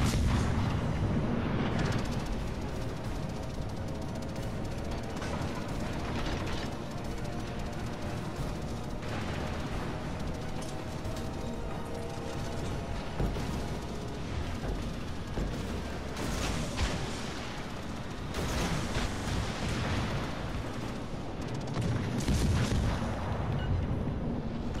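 Naval guns firing in World of Warships: Legends, a French tier II destroyer and cruiser battle, come through as repeated deep booms and rumbling blasts over a continuous dense roar of game combat noise.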